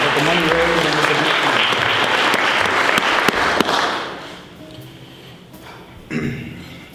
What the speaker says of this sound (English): can we give Miss Perry another round of applause